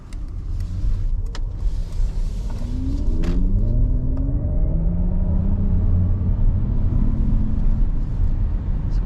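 A 2022 Mercedes-Benz EQS 580, the dual-motor electric model, accelerating under steady road rumble while its artificial drive sound swells as a rising synthetic tone inside the cabin.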